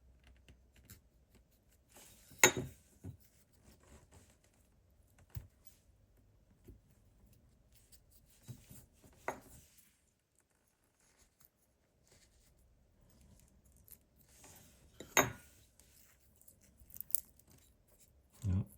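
Scissors snip glued yarn off the handle of a Japanese kamisori razor: sparse, quiet clicks and cuts with scraping and handling noise between them, a few louder snips standing out.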